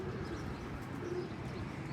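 Pigeons coo softly at a distance, a low murmuring call repeating over faint outdoor background noise.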